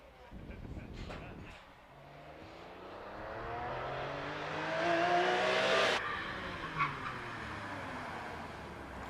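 A race car climbs the Prescott speed hill climb course, its engine note rising steadily through the gears as it approaches and passes close by, then fading away after a sharp cutoff.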